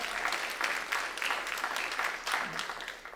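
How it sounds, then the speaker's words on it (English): Audience applause at a live cookie competition, a dense steady wash of many hands clapping from a crowd, fairly near and continuous with slight swells. "Let's give a round of applause for our potential judges that are coming out."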